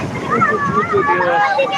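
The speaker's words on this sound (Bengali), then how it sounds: "উঁচু ঢেউ আসছে" Tall, rough sea waves break and wash along the beach at New Digha where people are bathing, a steady loud roar of surf and wind heard under continuous talking.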